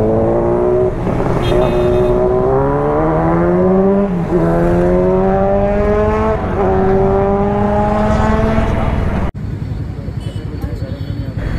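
Kawasaki Z900 motorcycle engine roaring loud and close on an Independence Day group ride, revving and shifting up repeatedly in rising sweeps before cutting abruptly, followed by quieter wind-buffeted road noise.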